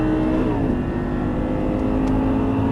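An Audi R8 engine on a race track hums loud and steady from inside the car, its pitch dropping briefly as it upshifts, then holding an even drone.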